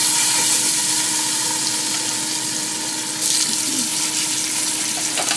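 Oxtail pieces sizzle loudly as they brown in hot olive oil in a sauce pot, a continuous dense frying hiss with a brief burst of extra crackle partway through.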